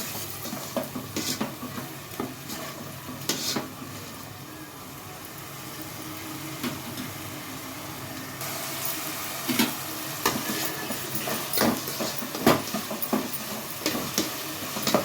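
Mandya-style chicken gravy masala frying in a pan, a steady sizzle with intermittent stirring scrapes and clinks of a utensil against the pan, moderately loud and continuous, with no voices.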